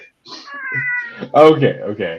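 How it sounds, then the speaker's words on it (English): A pet cat meows several times in a home, loud and close, with people talking around it. "that was my cat"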